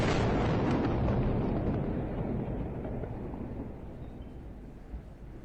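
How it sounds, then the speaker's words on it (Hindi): A heavy explosion booms in Gaza during the Israel-Hamas war. It is a single loud, broad blast that rumbles and fades slowly over several seconds. "रुक रुक कर धमाकों की आवाजें भी सुनाई दे रही है"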